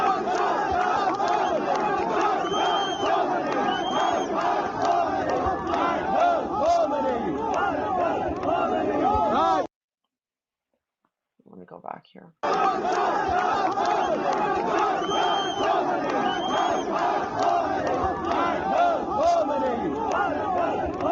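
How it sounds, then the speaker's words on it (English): A dense funeral crowd chants "Death to Khamenei" in a loud, continuous roar of rhythmic voices, broken by a brief silence with a few faint sounds, then the chanting returns just as loud. "at his funeral, they're yelling death to Khamenei."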